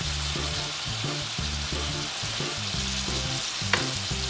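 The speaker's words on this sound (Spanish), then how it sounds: "ya tengo aquí mi aceite caliente y voy a agregar la carne. A que se fría." Pork pieces sizzle steadily in hot oil, a close, continuous frying hiss with light stirring and a brief clink near the end, no voices.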